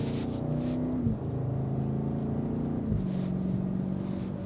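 Low exhaust burble from a 2026 BMW X7 M60i's V8 heard from inside the cabin, a steady muffled rumble with a couple of gear-change dips, moderately quiet under sound deadening, no talk.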